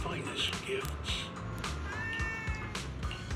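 Cat meows from Zenless Zone Zero, a few short tonal calls near the middle and end over busy game background sound and music.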